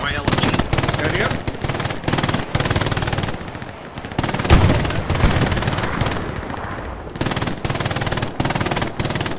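Sustained light machine gun bursts in Hell Let Loose, loud and close, firing in rapid stuttering volleys with brief gaps and a heavier blast near the middle, over battlefield noise.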